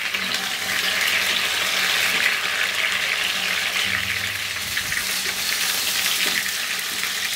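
Pointed gourd (potol) frying in hot mustard oil, a loud, steady, close sizzle with faint low stirring sounds underneath.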